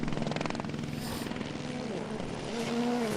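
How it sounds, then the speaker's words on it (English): A low-flying helicopter passes over a 2023 WRC rally stage, its rotor chopping in fast, steady pulses with a loud, close engine whine. "that helicopter's a little low"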